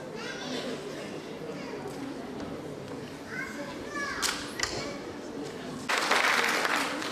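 Applause from the audience at the final of a national Quran memorization (hafızlık) competition award ceremony in Batman, Turkey, with clapping swelling loudly near the end over crowd chatter and children's voices.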